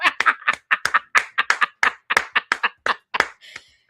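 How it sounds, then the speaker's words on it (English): One person claps by hand in a quick, uneven series of about twenty sharp, close claps, slowing slightly before stopping. "Give Edie Marie a hand clap of praise for her video."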